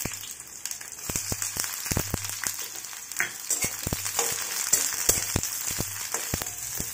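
Chopped onion sizzles steadily in a hot pan, a dense frying crackle with scattered sharper pops and a few stirring clicks, close and continuous with no talking.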